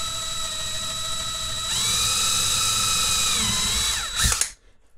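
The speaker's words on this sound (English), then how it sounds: "Put the drill through here carefully." Power drill boring through a 3D printer hotend shroud, a high steady whine that rises as the bit bites, holds for a couple of seconds, then winds down and stops.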